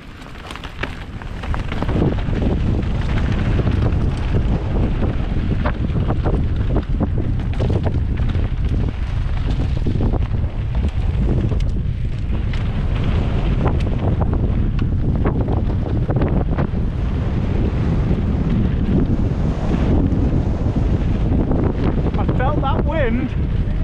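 Strong wind buffets the microphone of a mountain biker riding a downhill race track, producing a constant loud rumbling roar for the whole stretch, with occasional rattles beneath it.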